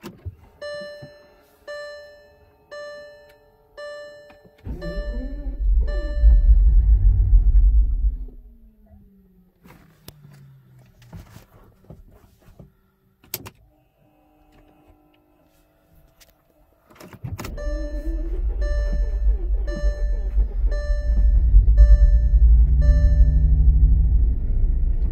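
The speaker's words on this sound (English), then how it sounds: "Now it's just time to put the key in and start it up and see how she runs." A cheap salvage Bentley Flying Spur with its fuel pumps refitted and fresh gas gives a series of dashboard chimes, then cranks and rumbles briefly, goes quiet, and restarts into a steady, deep running rumble.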